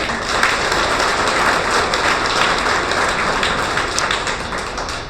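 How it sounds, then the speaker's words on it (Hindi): Dense, steady applause from a crowd of party workers at a political speech in Kolkata, a continuous wash of many hands with no voices over it. "तालियां।"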